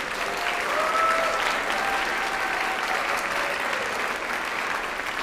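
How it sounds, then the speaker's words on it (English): Sustained audience applause for carol singers at a Christmas carol night, a steady crowd of clapping hands that swells early and holds through to the end. "Can we get another big applause for the Hilltop Singers?"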